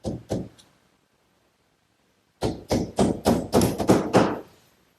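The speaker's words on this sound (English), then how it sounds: "I'll fasten it with these little 5-penny box nails." Small 5-penny box nails are hammered into the back panel of a wooden bookcase: two quick taps, a pause, then a fast run of about eight sharp, close knocks.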